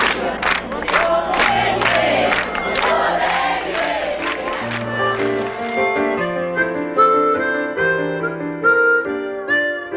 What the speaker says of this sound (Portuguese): Aos gritos, a multidão homenageava: Viva JK! Viva a democracia!